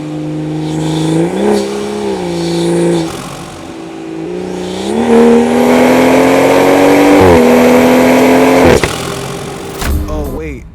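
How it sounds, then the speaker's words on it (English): A turbocharged BMW X3 M40i engine revs up in several rising pulls, its pitch climbing and dropping, loud and nearby with a whooshing turbo edge at the top. "I can still hear those turbo sounds"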